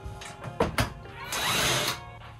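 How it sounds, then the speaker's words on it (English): A power drill whirs in a camping trailer, with a couple of short trigger bursts followed by a longer, louder whine that winds down, close and alone. "Where's our drill, my guy?"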